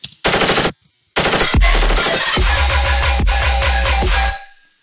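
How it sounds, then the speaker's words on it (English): Sampled gunfire inside a music track: a short burst of rapid automatic shots, a gap, then a longer run of rattling shots over punchy low hits in a steady rhythm, loud and close, before trailing off. "There's a gun sound in there, like just a gun, like sort of firing sample."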